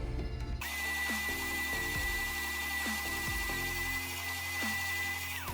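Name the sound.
oscillating spindle sander sanding inside a wooden push stick handle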